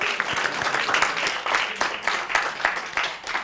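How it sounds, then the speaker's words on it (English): Enthusiastic applause from an audience in a lecture hall, dense and steady clapping with a few cheers, fairly loud and sustained throughout without speech. "Let's give him 10 seconds of enthusiastic applause."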